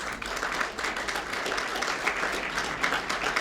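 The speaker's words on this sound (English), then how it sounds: "Well-deserved applause." Audience applause fills the room in a steady, sustained wash of many hands clapping at moderate volume, with no voices over it.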